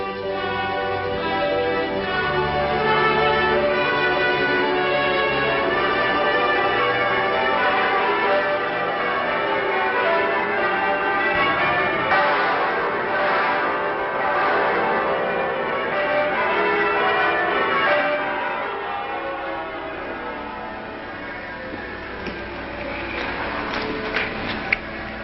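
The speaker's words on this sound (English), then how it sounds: "And now the bells begin to ring." Church bells ring out in a dense, sustained peal that blends with orchestral music, continuous and fairly loud throughout.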